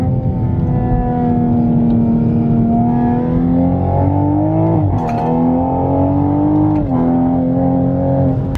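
A turbocharged 550 bhp Toyota Supra with a catless downpipe and full exhaust accelerating hard, a loud droning engine note climbing in pitch with brief dips at gear changes, close by and continuous.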